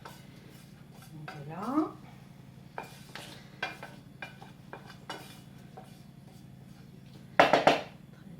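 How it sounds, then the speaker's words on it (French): Confit shallots, cooked in fat, are poured into a bowl of pâté ingredients with aged cheese and mixed: scattered clinks of spoon and dish and wet stirring sounds, ending in a louder clatter, under a steady kitchen hum with a brief spoken remark. "on va tout mélanger les ingrédients comme il faut. Je verse nos échalotes"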